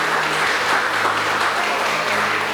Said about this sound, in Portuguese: Você pode bater uma salva de palmas para o Senhor?